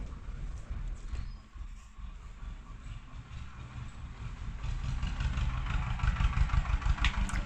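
A tractor engine idles close by in a field, a steady low rumble that thickens and grows slightly louder toward the end, with no voices.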